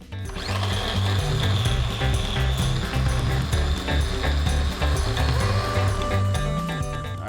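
Food processor blending homemade chili-garlic sauce until fairly smooth, a loud continuous motor whir with rattling and churning of the thick contents, steady throughout with no talking.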